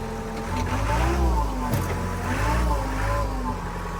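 A heavy-duty forklift runs nearby, its engine holding a steady low drone that swells slightly as it is driven, with no clear speech over it.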